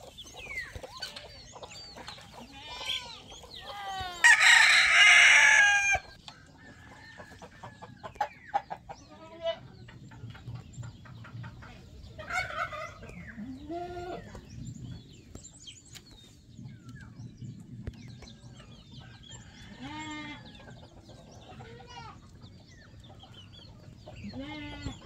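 Pet chickens and roosters on a farm with goats, scattered clucks and chatter throughout, a loud crow or squawk burst near the start, and soft background noise between calls.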